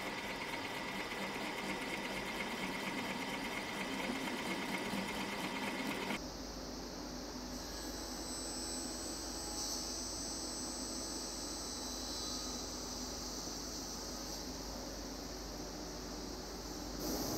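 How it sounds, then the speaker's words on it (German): Power tool drilling holes into a wooden board and then cutting slots into it, a steady mechanical whine running throughout, shifting pitch partway as the drilling gives way to cutting, close and fairly loud with no voices. "Die stelle ich her, indem ich ein paar Löcher bohre und danach die Platte bis zu diesen Löchern einschneide."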